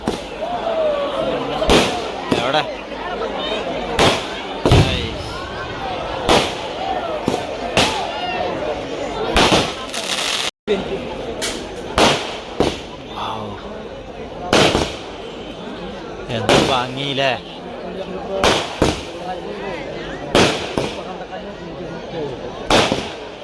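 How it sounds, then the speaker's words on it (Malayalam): Aerial fireworks bursting repeatedly at a Shivaratri festival in Erumad, sharp loud bangs at irregular intervals over a steady crackling roar, with crowd noise throughout. "വെടിക്കെട്ടൊക്കെ കഴിഞ്ഞു ഇനി ആകാശ വിസ്മയാണ് കേട്ടോ"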